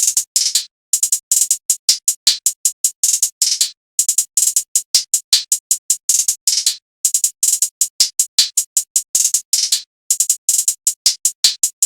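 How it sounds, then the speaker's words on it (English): Programmed hi-hat pattern in an FL Studio beat, crisp fast ticks looping every two bars with short rolls and brief gaps, loud and alone. "Then the hi-hats, just a few rolls down here, and then I just copied it over every 2 bars, and it sounds like this."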